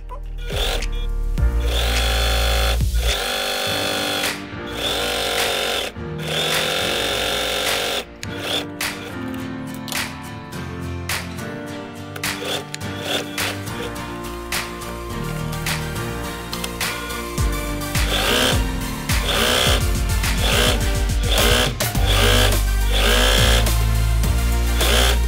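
Sewing machine stitching the seam of a fabric door draft stopper, a steady fast mechanical whirring with brief stops and restarts, close and loud, with no talking.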